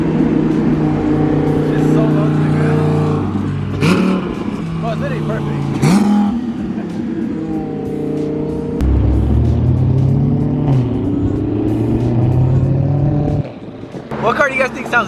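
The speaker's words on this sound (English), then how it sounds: "those turbos are so loud" Twin-turbo Lamborghini Huracán engine revving at night, a steady loud rumble with occasional sharper surges, mostly heard beneath people talking close by.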